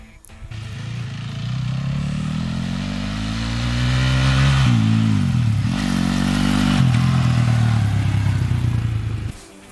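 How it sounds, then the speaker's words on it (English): A motorcycle engine revs up close and loud, drops briefly as the gear shifts, then climbs again in a steady accelerating drone before cutting off. "When you shift up one gear, get enough speed, stop accelerating, clutch, shift the gear, and then declutch while slowly speeding up."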